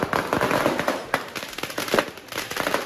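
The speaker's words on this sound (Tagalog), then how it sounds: "pagpatak ng alas 12 sa Cebu City, kanya-kanyang pasiklaban ng mga biniling paputok ang mga residente" Firecrackers and fireworks set off by residents at midnight in Cebu City, a dense barrage of sharp cracks and pops rattling continuously, loud and overlapping with no talk.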